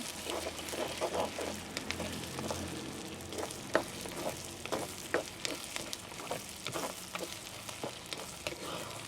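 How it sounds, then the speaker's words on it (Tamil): Onion, garlic, green chili and curry leaves sauté in hot oil with a continuous crackling sizzle, punctuated by frequent clicks and scrapes of a stirring spoon, close by. "நீங்கள் அதை நல்லா கிளறி எண்ணெயிலேயே வதக்கி எடுப்போம்"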